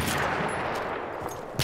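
Mortar fire in a shooter video game, a dense, loud barrage of explosive blasts filling the short burst, with a sharp fresh impact right at the end.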